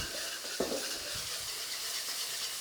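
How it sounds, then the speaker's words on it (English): Sauce with sugar and ketchup bubbling and sizzling hard in a hot wok over a gas flame, a steady frying hiss with a brief stir or clatter near the start. "And that is vigorously boiling really quickly on this gas flame."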